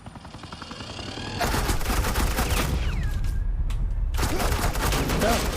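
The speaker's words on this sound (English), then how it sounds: "Suppressing fire." Sustained suppressing gunfire in the Batman: The Enemy Within video game, a dense, loud automatic burst of rapid shots that swells in and continues unbroken, with a brief whoosh in the middle.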